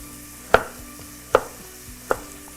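Knife chopping carrot on a cutting board while making ekşili köfte: three sharp, close, evenly spaced thunks with no talk.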